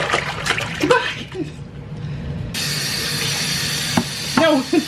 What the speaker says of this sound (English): Why are you splashing so much?